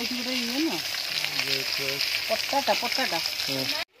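Fish fries in a pan with a strong, continuous crackling sizzle that runs until an abrupt cut near the end, while a person talks over it throughout.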